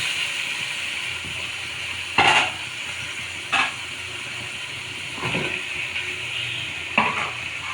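Cut radish pieces tipped into frying spice paste for a tengra fish curry hiss with a continuous close sizzle, broken by a few louder scraping stirs of the spatula at intervals, with no speech.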